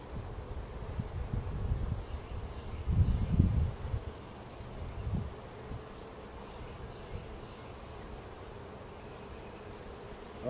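Honeybees buzz softly and continuously around an open hive during a frame-by-frame inspection of food and uncapped brood, with a few louder bursts of close rustling and handling noise early on.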